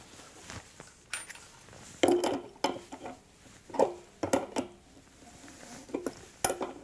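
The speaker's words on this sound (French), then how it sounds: "Et je visse le départ d'eau chaude" Metallic clinks and ratcheting taps as a hot water outlet fitting is screwed onto a water heater (boiler) fitted with a small seal, close and intermittent, with several sharp knocks over a quiet room.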